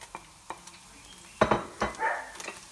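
Spring onions go into a medium-high wok with peanut oil, giving a few sharp clinks and scrapes of a utensil against the pan followed by a brief, soft sizzle, close and without talk.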